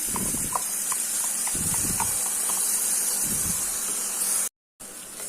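Ground spice paste sautés in a hot pan for plain biryani, giving a continuous close hiss broken by a few soft clattering bursts of stirring.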